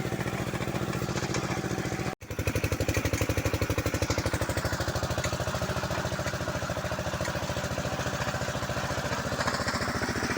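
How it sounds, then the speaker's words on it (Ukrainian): A tractor engine chugs steadily and loudly up close as it drives through a marshy hayfield, with a rapid regular rhythm and a brief dropout near the start, no talk. "А ми нашим трактором їдемо."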